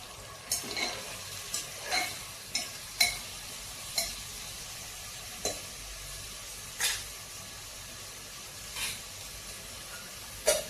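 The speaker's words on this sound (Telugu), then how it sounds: "ఉల్లిపాయలు కొంచెం వేగిన తర్వాత అండి" Onions frying in oil for mutton curry, heard as a quiet sizzle with about a dozen sharp spatula scrapes and knocks spread unevenly across the stretch.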